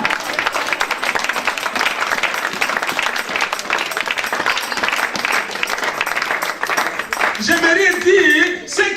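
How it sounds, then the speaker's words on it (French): Worshippers at a church service applaud and cheer loudly and continuously; near the end the clapping thins as a voice and a brief tonal sound come through. "Ton acclamation est timide, acclame bien"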